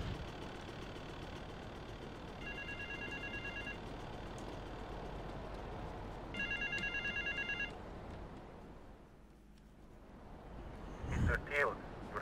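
In the GTA Vice City video game, a telephone rings in two short electronic trilling bursts over a steady engine idle, then the background drops away before a brief louder noise.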